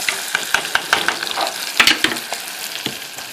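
A spoon stirring a quick sauce in a hot frying pan, close up, with repeated scraping taps against the pan over a bubbling sizzle and no voices.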